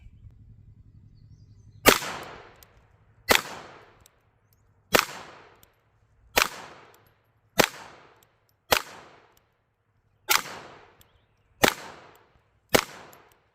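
Nine sharp gunshots from a Walther P22 pistol at target practice, each a loud crack with a short decaying tail, fired one at a time at roughly one-and-a-half-second intervals.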